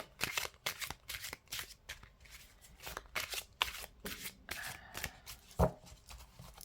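Oracle cards are shuffled by hand in a quiet room, a rapid series of crisp riffling bursts at close range, with a sharp tap near the end.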